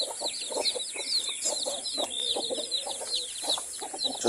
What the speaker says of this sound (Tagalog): meron pa pala ditong bagong kinulong si Joel ng mga sisiw